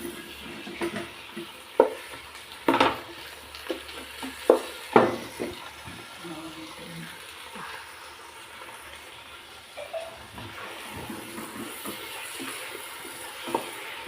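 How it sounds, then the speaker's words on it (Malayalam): Biryani masala with coriander and chili powder being stirred in a pot for dum biryani, with a low simmering sizzle under repeated scrapes and scattered clinks of the spoon, busier early on and quieter later, without speech. "നമുക്ക് നന്നായിട്ട് ഇളക്കി കൊടുക്കാവേ."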